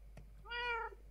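A cat gives a single clear, drawn-out meow inside a Minecraft-style building game, quiet and alone against a faint steady background hum.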